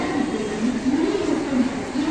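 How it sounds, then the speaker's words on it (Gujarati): A train rumbles at Bandra railway station in Mumbai, a steady, close, low drone with a slow, wavering pitch over a busy platform background. "આ સામે બાંદ્રા રેલવે સ્ટેશનનો કંઈક નજારો આ રીતનો છે"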